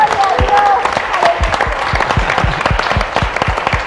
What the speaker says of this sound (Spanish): Un aplauso fuerte para Jesús